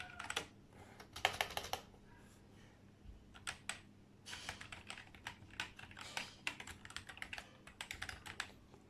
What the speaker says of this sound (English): Please type your details.